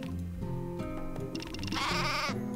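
Sheep bleating in the video game Craft the World: several clear, close bleats in quick succession over game music, with a brighter, louder burst toward the end.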